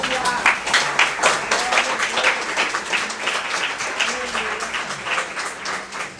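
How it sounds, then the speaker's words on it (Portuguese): A church congregation at Nova Vida do Catete claps in praise to the Lord, a lively crowd of hands beating in loose rhythm, with voices rising over and under the clapping throughout. "Uma salva de palmas ao Senhor."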